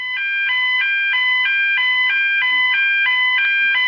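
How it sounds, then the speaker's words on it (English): A fire alarm sounds loud and close, a piercing electronic tone pulsing in a fast, even rhythm of short repeated bursts with no voices over it. "What is that? It's an alarm."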